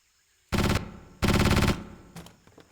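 Two loud bursts of rapid automatic gunfire from the video game JP Trespasser, each about a quarter to half second long, followed by faint scattered clatter.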